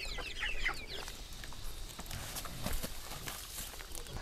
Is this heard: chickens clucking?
yes